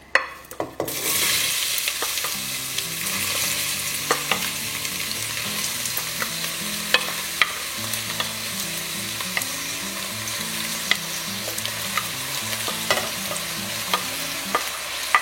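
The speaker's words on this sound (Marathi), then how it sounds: "तेल गरम जालें, कांदे घालया." Onions sizzle steadily in hot oil for pork vindaloo while a utensil stirs and scrapes the pan every so often, with a faint hum underneath.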